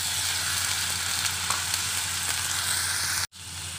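Chicken drumsticks sizzle loudly in a pan over browned onion, garlic and ginger, a steady dense frying hiss with a brief dropout near the end.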